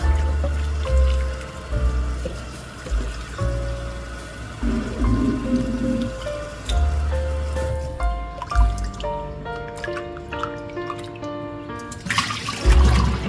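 Water trickles and drips in a kitchen while fish is rinsed for brown stew, an uneven close running flow with splashes, and music playing underneath.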